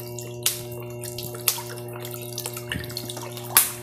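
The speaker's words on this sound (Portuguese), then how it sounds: "aqui eu vou fazer a água para passar pano aqui em casa" Water with a little neutral detergent and pine cleaner is mixed in a bucket for mopping at home, heard as faint trickling and splashing broken by a few sharp clanks and knocks.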